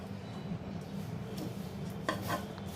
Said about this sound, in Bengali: এই দেখেন গাইস, আমি এখন রান্না করছি।